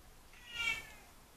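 A Siamese cat gives a single drawn-out meow indoors, fairly faint and alone against a quiet background.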